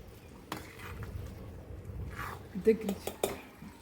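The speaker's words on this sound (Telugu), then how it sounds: "ఇది దగ్గర అయ్యే వరకు ఇట్లా తిప్పుకుంటూ ఉండాలి" Milk being stirred in a pan while bread halwa cooks, with soft scraping and a few sharper clinks of a spoon against the metal toward the end, quiet and close.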